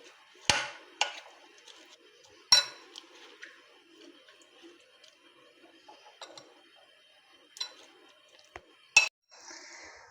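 Raw potato fries tipped into a bowl and tossed, giving sharp intermittent clinks and knocks against the bowl with quiet rustling between, close and clear, with no talk.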